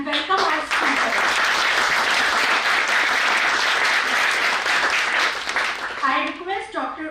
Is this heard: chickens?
no